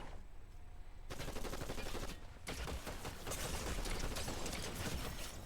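Rapid gunfire in the video game Fortnite, dense bursts of shots with a brief pause after the first second and another just past two seconds, loud and continuous.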